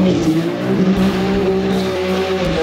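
A rear-wheel-drive BMW M4 spins its rear wheels on worn tyres, producing a loud, close engine rev with a tonal tyre whine held steadily for a few seconds.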